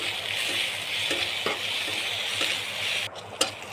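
A frying pan sizzles steadily while a spoon scrapes and stirs spices with turmeric powder through it in several separate strokes, close up.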